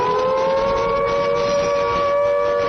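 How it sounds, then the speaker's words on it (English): A steady, loud wailing warning siren sounds in a Call of Duty multiplayer match, holding an unbroken tone throughout with no talk over it. "There's the warning sirens gone out to everyone to get ready for the action."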